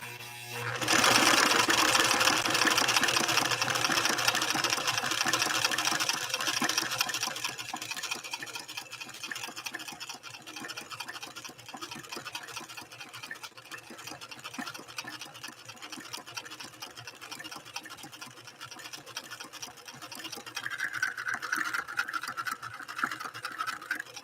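A White Model 742 sewing machine runs an overlock stitch, a loud, steady mechanical whir close by that eases slightly partway through and carries on without a break to the end.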